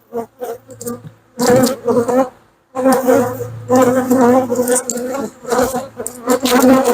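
Honey bees buzz inside a crowded hive box, a steady low drone running beneath a voice as he talks close by.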